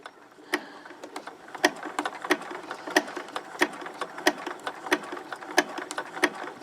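A sewing machine stitching fusible appliqué on fabric, a close, steady mechanical hum with evenly spaced sharp needle thumps repeating about twice a second.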